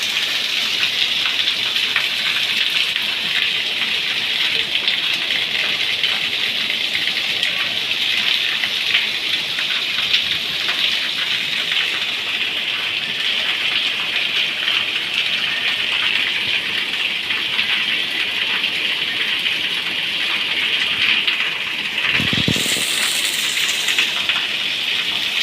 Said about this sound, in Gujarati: વરસાદ ચાલુ થઈ ગયો ફૂલ.